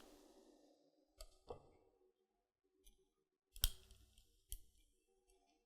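Quiet, sparse snipping clicks of poorly working scissors cutting cake decorating material, a handful of sharp cuts at uneven intervals with near silence between.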